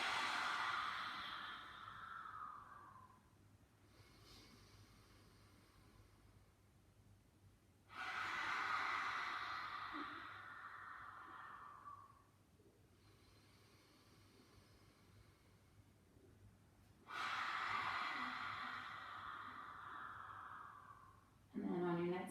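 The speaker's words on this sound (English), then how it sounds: "let's do those nice 3 strong Oyaji breaths again" Three strong ujjayi yoga breaths, each a long, loud, hissing breath that fades out over a few seconds, separated by quiet pauses, close to the listener, with a brief breathy sound at the very end.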